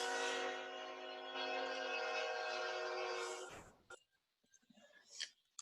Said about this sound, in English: Drop a like if you can hear the train in the background.